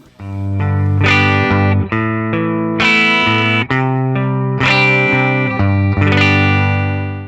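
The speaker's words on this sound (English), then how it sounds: "I'll first use a clean tone and I'll go through every pickup setting and I'll just play a simple progression" A Charvel Guthrie Govan signature electric guitar with a flame maple top, clean tone on the first pickup position, strums a simple chord progression of ringing chords, each struck and left to sustain, loud and close with no voices.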